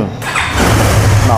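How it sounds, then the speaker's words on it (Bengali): A motorcycle engine is started with a brief cranking burst that catches into a running rumble, close and fairly loud. "একটু স্টার্ট দেবো, একটু স্টার্ট হবে।"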